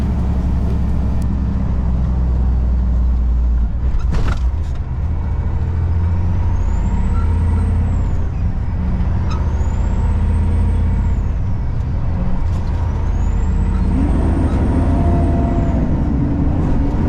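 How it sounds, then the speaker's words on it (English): A Kenworth K104 truck on the road, its steady loud engine and road rumble running throughout, with a sharp air-brake hiss partway through and a shift in engine tone near the end, no talking. "enjoy the ride in the Kenworth K104"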